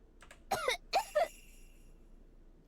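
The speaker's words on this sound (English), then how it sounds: "A single cough." A cough sound effect from the Higurashi When They Cry visual novel: three quick, harsh bursts packed into under a second, fairly close and loud against a quiet background, with no talking.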